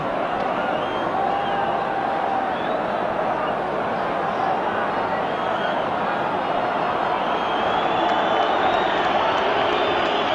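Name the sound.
irritated football crowd reacting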